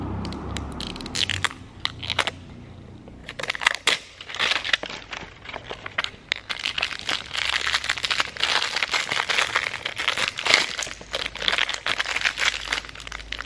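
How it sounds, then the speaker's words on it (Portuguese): Close crinkling and rustling of a plastic zipper bag from a LOL Surprise doll package being opened, starting sparse with a few sharp clicks, then building into a steady crackly rustle. "Vamos abrir o próximo zíper."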